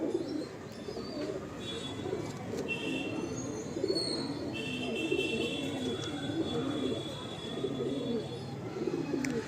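Pigeons coo continuously in a loft, soft throaty calls layered and close, with faint chirps and occasional thin whistles above the steady murmur.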